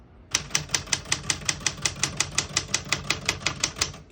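Steady rapid clacking of keys on a 1967 Smith-Corona Super Sterling portable typewriter, about five strikes per second in an even rhythm, close up with no voices.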